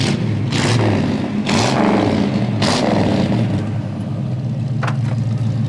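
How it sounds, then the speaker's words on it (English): A 1971 Chevy Nova's engine rumbles steadily through its exhaust, deep and loud, swelling in several rev surges over a constant low throb. "Great sounding exhaust"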